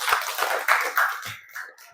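Junior high students in a physical education class clap their hands in a short burst of irregular, fairly close claps that fade out after about two seconds.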